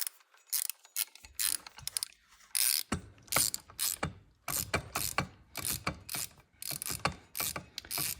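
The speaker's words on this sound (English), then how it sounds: "we'll throw our 10mm socket back on here. And we'll get this bolt tightened up" A ratchet wrench with a 10mm socket tightens a bolt while installing rearsets on a Honda Grom, giving rapid, close, loud bursts of clicking strokes in an uneven rhythm throughout, with no talking.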